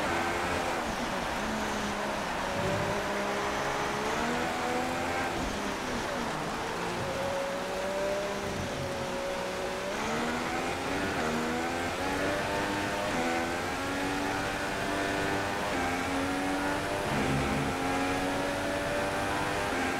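A Formula 1 car in F1 2016 at the Spanish Grand Prix, its high-revving engine whining loud and continuous through a lap, pitch rising and dropping with gear changes.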